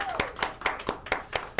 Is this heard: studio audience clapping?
yes